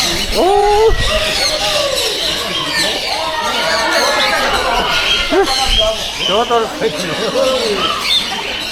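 Shrill, rapid squawks and screeches from many green parrots fill the air continuously at a bird park in Yercaud, India, loud and close, with a busy crowd-like chatter underneath.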